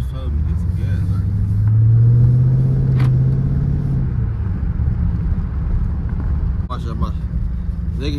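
Dodge Charger 392 Scat Pack V8 rumbling loud and close, building to a strong low swell of acceleration around the second and third seconds, then holding a steady drone; a voice speaks briefly over the engine.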